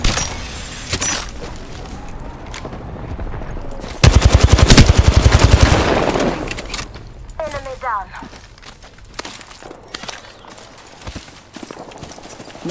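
A dense burst of rapid automatic gunfire from a video game firefight, with zipline and thermite grenade action, erupts loud and close for about two seconds amid scattered shots, effects, and players talking over the game.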